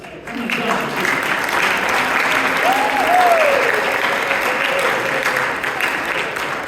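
Steady applause from a crowd at a high school awards ceremony fills the whole stretch, a continuous wash of clapping at even strength, with a faint whistle or voice rising briefly midway.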